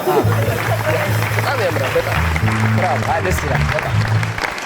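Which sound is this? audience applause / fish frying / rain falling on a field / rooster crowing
audience applause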